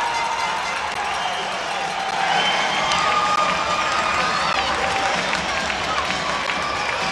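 A hockey arena crowd roars and cheers after a fight on the ice, a dense, loud wall of shouting that swells partway through and keeps going, with an announcer talking over it.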